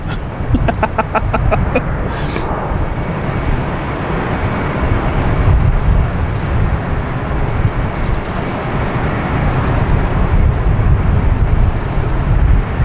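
A KLM airliner from Amsterdam roars continuously at Boston Logan Airport, a loud broad rumble of jet engines that holds steady throughout, with brief clucking-like clicks early on.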